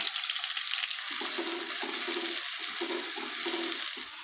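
Large-cut onions fry and brown in half a cup of ghee, giving a continuous close hiss of sizzling fat with soft, repeated stirring bumps underneath. No one talks.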